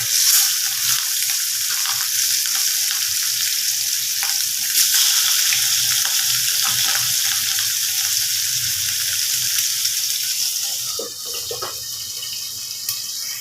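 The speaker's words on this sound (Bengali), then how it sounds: "তেলটা গরম হলে মাছগুলো ভাজবো" Pieces of katla fish sizzle in hot oil, a loud, dense crackle heard up close that runs on steadily and eases slightly toward the end, with a few faint clinks and no voices.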